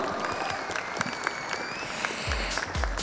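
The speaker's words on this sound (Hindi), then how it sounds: "जोरदार तालियां एवरीबॉडी, कम ऑन" Dense, energetic audience applause at a business conclave evening event, continuous clapping from a sizable crowd with a few whistles and a low thump near the end.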